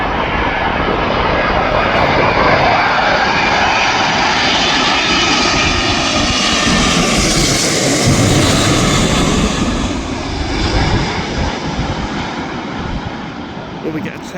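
A Boeing 777 jet airliner approaches to land at Manchester Airport, its engine roar swelling loud and close as it passes overhead, then easing off as it moves away.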